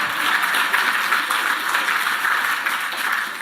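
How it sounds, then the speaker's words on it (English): An audience at a household workers of the year awards ceremony claps steadily, a moderately loud, even wash of many hands lasting a few seconds without pause. "Give us a clap then,"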